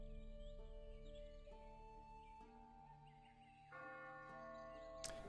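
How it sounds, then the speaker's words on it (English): A church bell tolls faintly in the distance, several separate strikes whose ringing tones linger and overlap over a quiet background. "That is the church bell."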